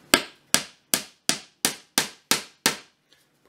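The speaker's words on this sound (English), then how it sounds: "hammer the nails in." Nails hammered into a wooden dining chair frame during reupholstering: eight sharp, ringing hammer strikes at a steady, quick rhythm, close and loud, with no voices.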